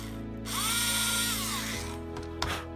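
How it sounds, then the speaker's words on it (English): A power drill bores holes into a piece of wood at close range, its motor whining steadily and rising as the bit bites, then slowing and stopping, with a short clatter near the end. "if I drill some holes in this piece of wood"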